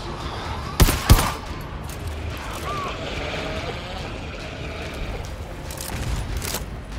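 Rifle fire in the video game GTFO: two sharp close shots near the start, then fainter scattered pops and rumbling game ambience.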